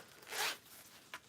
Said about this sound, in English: so now what I'm gonna do is fold my zipper